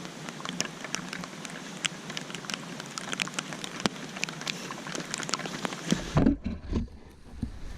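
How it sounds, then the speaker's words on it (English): Steady rain patters on a wet bushcraft campsite with a campfire, a dense constant hiss of drops on surfaces and cover, quite close; near the end the rain sound drops away briefly and a few duller knocks follow. "Really starting to rain now, guys."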